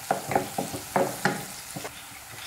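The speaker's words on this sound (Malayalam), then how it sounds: "ഇനി ഇതിലേക്ക് 1/2 ടീസ്പൂൺ കുരുമുളക് പൊടി നന്നായിട്ടൊന്ന് ഇളക്കി കൊടുക്കാം." Chilli chicken with black pepper is stirred in a frying pan, with a quiet sizzle under a series of soft scraping strokes about every quarter second.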